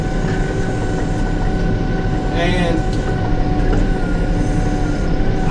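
A John Deere 6130R tractor baling hay runs with a steady, loud, droning rumble inside the cab, and someone talks over the constant engine noise.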